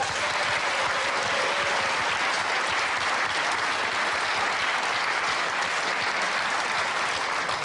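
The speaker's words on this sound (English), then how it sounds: "So, round of applause there." A studio audience applauds continuously and loudly, a dense even wash of clapping from start to finish with no speech over it.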